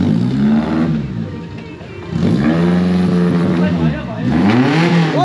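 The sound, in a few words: scooter arriving and revving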